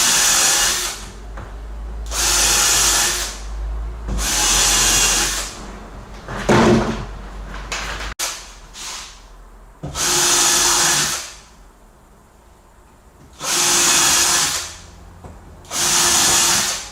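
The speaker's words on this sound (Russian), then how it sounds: "Время немного занимает засверливание отверстий, но потом саморезы лучше закручиваются" Power drill pre-drilling screw holes into wooden floor joists, several loud bursts of whining drilling a second or two each with pauses between, plus some clattering handling noise in the middle.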